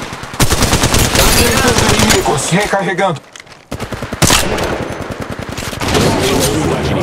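Rapid automatic gunfire from an Apex Legends Mobile ranked match, loud bursts of shots across most of the stretch with a short lull in the middle, while a voice speaks over the shooting.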